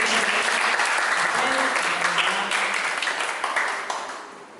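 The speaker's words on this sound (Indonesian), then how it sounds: "boleh dong tepuk tangannya dulu tuh" An audience at a stand-up comedy show breaks into steady, loud applause that fades slightly toward the end, with a voice faintly audible beneath the clapping.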